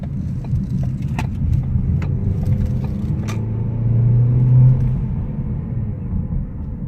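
Cabin of a 2017 Ford Focus SE with a non-turbo four-cylinder driving slowly, a steady low road rumble and engine drone, with a few faint clicks and rattles inside the car.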